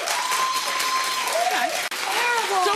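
A studio audience at a celebrity talk show breaks into steady, dense applause that holds evenly for about three seconds, with a brief dip near the end and faint voices rising over the clapping.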